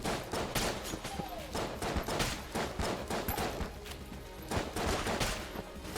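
Rapid gunfire from the twin-stick shooter Enter the Gungeon, with dense bursts of shots firing repeatedly throughout at steady loudness, sometimes overlapping into a continuous barrage.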